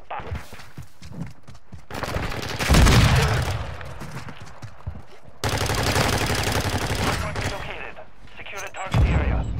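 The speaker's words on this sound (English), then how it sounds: "Why are you shooting our teammates, bro?" Rapid bursts of video game gunfire from teammates, loud and dense in two stretches, mixed with game effects and voices talking.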